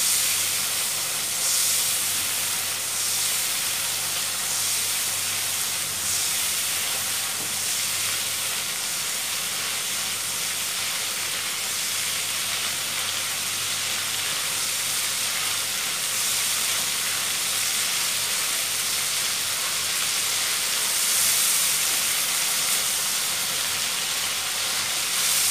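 Spice paste frying in a pan, a steady broad hiss and sizzle that holds evenly for the whole stretch with no talk.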